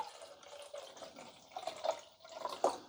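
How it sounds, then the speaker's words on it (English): Vinegar poured into the reservoir of a Ninja 10-Cup Specialty Coffee Maker CM401 for descaling, a soft trickling liquid flow with brighter splashing bursts toward the end. "So just dump the vinegar, pure vinegar,"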